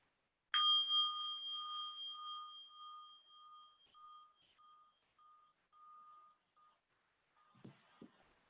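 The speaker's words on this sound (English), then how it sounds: "And with the ringing of the bowl, we now began our sacred service." A singing bowl is struck once to open a Sunday meditation service, giving a clear metallic strike that rings on as a long, slowly pulsing, fading tone for about six seconds, followed by a few soft handling sounds.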